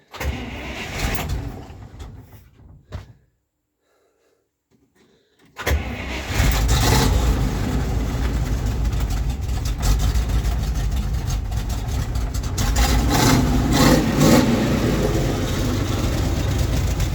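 A cold GAZ-53 truck engine turns over without the choke after a brief silence, then settles into a loud, steady, uneven idle that chugs on without pause.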